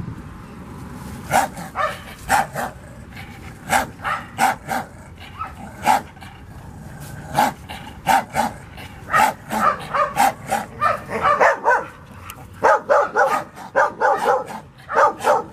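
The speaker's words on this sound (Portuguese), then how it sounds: "dentro de uma situação de outros cães latindo" Several dogs bark repeatedly in irregular bursts, loud and close, with some yips mixed in and brief pauses between volleys.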